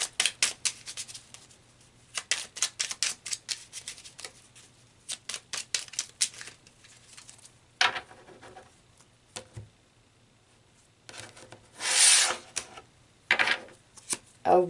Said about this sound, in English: let's pull some tarot cards to clarify these dice even further